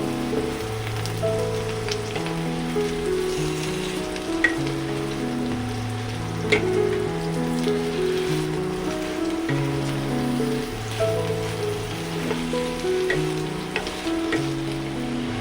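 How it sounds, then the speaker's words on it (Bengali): Ridge gourd tossed into frying onions in a little oil, hissing and crackling evenly like rain on a surface, with occasional scrapes of a stirring spoon under a steady melodic music bed. "এখন আমি ঝিঙেটা দিয়ে দেব ভালো করে নাড়াচাড়া করে নেবো"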